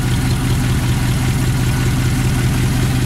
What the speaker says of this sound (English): It's powered by a Ford flathead V8. Engine looks nice, runs very smooth, and carries a ton of oil pressure. So, great sounding running flathead.